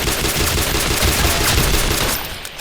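Dense, continuous automatic gunfire from a primary weapon in the war video game Entrenched, a loud unbroken rattle of rapid shots that tails off at the end with no voices over it.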